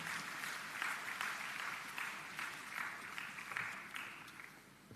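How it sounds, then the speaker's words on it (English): Audience applause at a campus graduation ceremony, a continuous broad roar of many hands heard from a distance, fairly faint and even, sustained for the full stretch with no speech over it. "Let's put our hands together and give our presentation party a round of applause."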